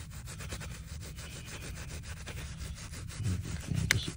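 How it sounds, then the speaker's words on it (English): A hand scrubs carpet fibers back and forth in a steady, rapid rhythm that gives a soft, close rasping rub. The strokes grow a little louder near the end, with no voices. "Just go ahead and scrub it here, back and forth"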